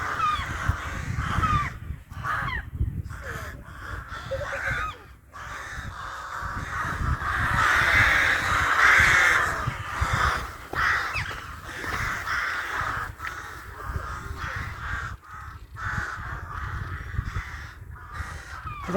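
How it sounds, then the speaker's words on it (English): A flock of crows cawing loudly and continuously overhead above a beach at Blackness Bay, harsh overlapping calls close by for a long stretch with no talking. "the crows have suddenly all landed there"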